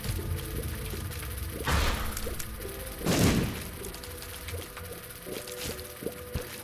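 Bomb flies in The Binding of Isaac burst in two muffled, booming explosions over a busy backdrop of game music and small effects, each blast swelling briefly before fading.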